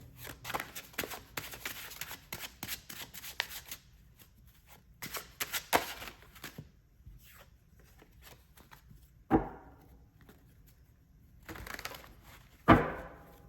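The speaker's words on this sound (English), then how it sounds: "A little bit more shuffling needed since you're the first reading of the day." Tarot cards are shuffled in quick riffling bursts, crisp and close, broken by pauses and a few sharper snaps as the deck is squared.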